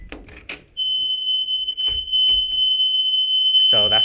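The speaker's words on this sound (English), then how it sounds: "So that's the alarm right there" A loud, steady high-pitched alarm tone sounds continuously for several seconds inside a new house, with a few brief voice sounds at the start and a burst of speech at the end.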